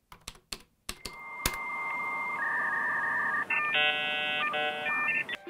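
A 1990s dial-up internet modem connecting: a few keyboard clicks and a sharp tap, then a steady dial tone, quick dialing tones and the loud, shifting screeching and warbling handshake tones.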